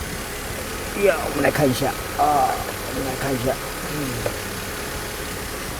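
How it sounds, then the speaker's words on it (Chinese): Mercedes R129 300SL with an M104 24V engine, just repaired, idling smoothly as a low, quiet steady hum beneath someone talking close by. "你看它的这个引擎好安静，非常非常安静，而且完全都没有抖动"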